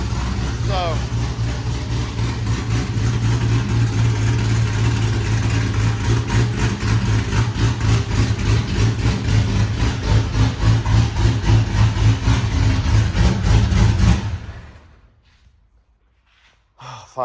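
Car engine idling with a choppy, lumpy lope from a Comp Cams NSR drift spec cam and FAST intake, loud and close, with steady rhythmic pulses for about fourteen seconds before it cuts off into near silence.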